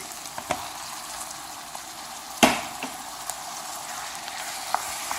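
Grated tomato hits peppers sizzling in a frying pan, a sharp splash-burst over a steady close frying hiss with a few small pops.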